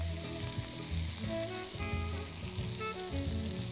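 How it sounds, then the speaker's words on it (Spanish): Crepe batter poured into a hot pan over cooked apple sizzles and fries steadily, a close, continuous crackle with no talking. "Y vamos a echar la masa del crepe."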